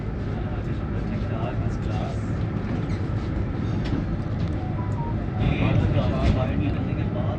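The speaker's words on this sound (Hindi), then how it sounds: "ट्रेन हमारी मेन लाइन 1 पे अपना सफ़र जारी रखे हुए है" The Shalimar Express rolls along main line 1 between Lahore and Karachi, a steady, close rumble and rattle of carriages with faint clickety-clack that swells slightly near the end, and a voice talks over it.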